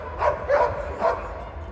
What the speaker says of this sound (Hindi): यहाँ भौंक रहा है, ये भौंक रहा है।